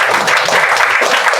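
An audience at a devotional gathering with kirtan breaks into loud, dense applause, a continuous burst of clapping heard close up with no pauses.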